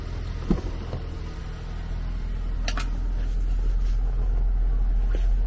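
A 2022 Ford Bronco Badlands idling after a remote start, a steady low engine rumble that builds slightly and holds, with a couple of faint clicks and taps early on and no talking.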